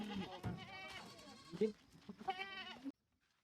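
Several red Kathiawadi goats bleat near and loud in quick overlapping calls at a goat sale, with some shuffling and background noise, then it cuts to silence.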